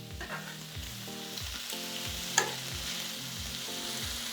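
Onions sizzle and fry on a griddle in ham and pepperoni salami juices, a steady close crackle with rhythmic scraping strokes of a spatula and one sharp metallic clink.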